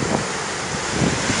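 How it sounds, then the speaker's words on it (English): Strong gusting wind from Tropical Cyclone Eloise in Mozambique roars steadily and close, a broad rushing noise buffeting the microphone with a few heavier surges. "Look at the speed of the wind."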